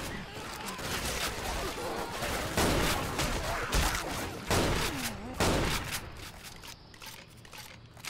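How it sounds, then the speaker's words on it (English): Pump shotgun blasts in Left 4 Dead 2, Dead Center Christmas version: several loud, spaced shots with sharp attacks and noisy tails over busy game ambience, fading to quieter background near the end. "Oh, this is the pump shotgun."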